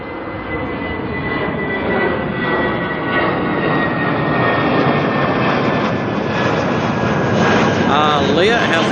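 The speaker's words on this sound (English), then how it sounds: "I'm just so impressed watching the 747 absolutely power its way over to Australia." Boeing 747 jet taking off from Auckland Airport and climbing away, a loud, sustained engine roar that builds and holds throughout, with faint voices underneath.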